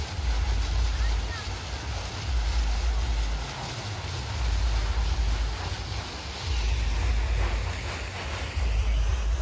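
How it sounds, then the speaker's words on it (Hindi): Water rushing down the rocks at Panchghagh Falls, a waterfall in Khunti, Jharkhand, heard as a steady, loud broadband roar that swells and eases in waves and is buffeted by wind on the microphone. "पानी नीचे जा रहा है।"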